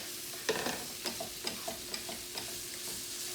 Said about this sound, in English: So now I'm going to add my crumbled black firm tofu